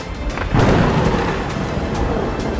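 A rumble of thunder from lightning rolls in and swells over steady rain, the low boom peaking early then lingering as a long, loud roll.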